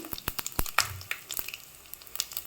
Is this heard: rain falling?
no